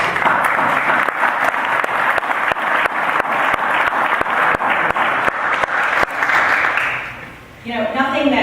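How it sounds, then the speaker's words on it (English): Loud, sustained applause from an audience at a county freeholders' recognition of high school state champions, lasting about seven seconds and fading out before a voice begins speaking. "So I'd like to offer them a round of applause for their support."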